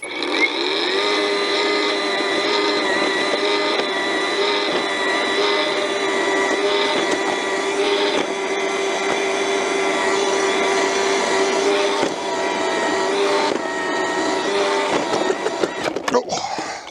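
An EGO PHA7400 battery earth auger drills a hole in dry ground, giving a steady, loud motor whine that holds constant and then ends in a short burst of rattling knocks.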